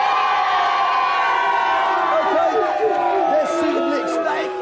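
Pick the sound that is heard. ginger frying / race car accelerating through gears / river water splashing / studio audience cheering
studio audience cheering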